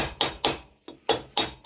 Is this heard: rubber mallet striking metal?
yes